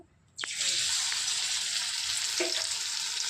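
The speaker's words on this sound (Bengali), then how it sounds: "সন্ধ্যাবেলা চপ ভাজতে চলে এসেছি" Banana flower chops dropped into hot oil, a sudden bright hiss rising from near silence into a continuous loud crackling sizzle, with a couple of faint clinks along the way.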